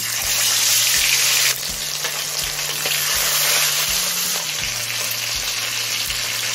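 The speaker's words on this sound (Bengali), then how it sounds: "তেলটা হাই ফ্লেমে ধোয়া ওঠা গরম করে নিয়েছি। এবার মাছগুলো ভেজে নেব।" Fish sizzles steadily in smoking-hot oil over a high flame, a dense, continuous frying crackle close by, with a low periodic hum running underneath and no talking.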